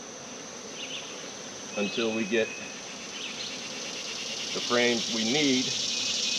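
Honey bees buzz steadily around frames pulled from a hive while spring honey is harvested, a dense insect drone running throughout beneath two short bursts of speech.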